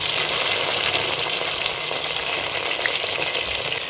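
Chopped tomatoes sautéing in oil with softened onions in a pan for chicken biryani give an even, close, continuous sizzle with faint stirring, and no voices.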